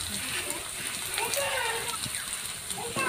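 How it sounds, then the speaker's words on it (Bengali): Chopped onions with a slit green chilli sizzling in hot oil in a wok, a steady crackling hiss like light rain that runs throughout, with speech over it. "পেঁয়াজকে ভালো করে লাল লাল করে ভেজে নেব।"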